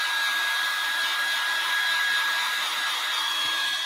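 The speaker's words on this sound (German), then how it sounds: "ist ein echter Föhn" A Grundig hair dryer runs steadily at close range, a loud continuous airy whoosh with a high motor whine and no break, alone without talk.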